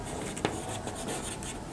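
A pen writes on paper during an accountancy lesson, with a steady faint scratching that is close and continuous across a brief stretch and carries a single small tap near the start.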